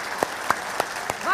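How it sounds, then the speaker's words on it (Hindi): A television debate studio audience welcomes two speakers with applause: a handful of evenly spaced claps ring out moderately loud, and a voice starts up at the close. "रिपोर्टर तालियों के साथ स्वागत कीजिए दोनों का"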